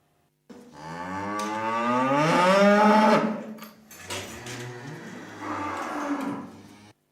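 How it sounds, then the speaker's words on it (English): Cows moo: a long, loud drawn-out moo, followed by a couple of shorter, lower moos, close by and with no voices. "Those be my cows."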